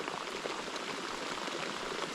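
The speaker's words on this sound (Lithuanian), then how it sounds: "Na va, pasiekėm ir kitokio lietaus. Dideliai laišai." Heavy rain with large drops pounds steadily on a kayak, a dense, close pattering hiss with no pauses and no voices.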